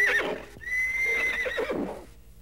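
Donkeys braying inside a large stable, a couple of loud, drawn-out calls close by with shorter honking breaths between them, and no talk over them.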